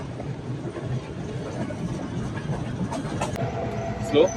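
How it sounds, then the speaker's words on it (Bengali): A train crawls slowly along the Sri Lankan hill-country line from Nuwara Eliya to Ella, giving a steady, close rumble with faint intermittent clicks and a brief louder clank near the end. "ট্রেনটা খুব স্লো চলতেছে"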